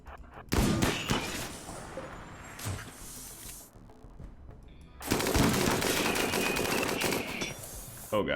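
Sustained automatic turret gunfire from RimWorld, a dense rapid clatter of shots that drops briefly mid-clip then resumes loud and continuous.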